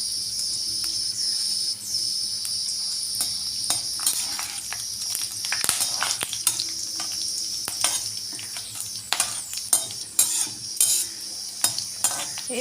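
Whole spices frying in hot oil for chicken biryani: cinnamon, cloves, cardamom, star anise and a bay leaf. A soft, steady sizzle runs throughout, broken by light clicks and scrapes of a stirring utensil.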